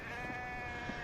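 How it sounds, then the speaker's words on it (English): A sheep in a video game gives a short, wavering bleat, a steady tremulous tone lasting about a second, clear and fairly quiet, with no talk. "there's another sheep"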